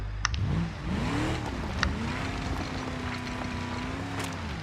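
Rock crawler engine in BeamNG.drive, revving under a bit more throttle while trying to climb, a rising and falling motor drone that swells and holds a steady note with a few faint clicks, no talk.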